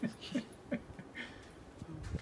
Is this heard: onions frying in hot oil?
no